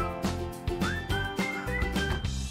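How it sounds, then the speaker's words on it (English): Someone whistles a short rising tune in bright pure tones, heard over a rhythmic musical backing with steady low beats, at an outdoor stop of a touring crew. "Can you whistle?"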